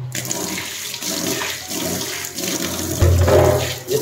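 Tap water runs steadily while a chopping board is rinsed in a kitchen sink, a close continuous splashing that swells louder near the end, with no talking.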